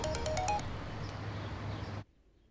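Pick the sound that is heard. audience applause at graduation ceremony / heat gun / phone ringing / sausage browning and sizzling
phone ringing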